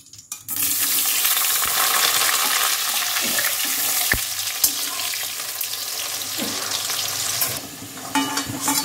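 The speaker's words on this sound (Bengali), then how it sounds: "এবার আলুগুলো একটু ভেজে তুলে নেবে।" Potatoes fry in mustard oil in a wok, giving a loud, steady sizzle that fills the whole stretch, broken by a few sharp clinks of a utensil and a brief stir near the end.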